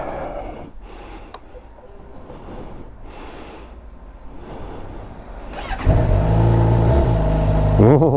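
A 2016 Suzuki GSX-R750 sport motorcycle engine fires up and rumbles loudly close by in the final seconds, after a quieter stretch with some breathy sounds.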